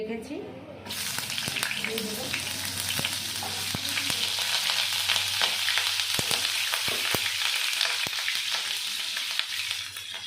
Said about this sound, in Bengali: তেলটা গরম হয়ে গেছে পটলগুলো আমি ভেজে নেব